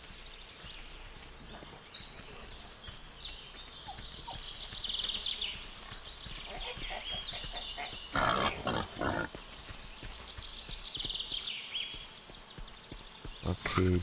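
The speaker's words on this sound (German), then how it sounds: "Ah, das ist schon wieder ein Schwein." Low pig grunts and snorts from the game Force of Nature come through faintly amid background ambience, with a few brighter bursts partway through.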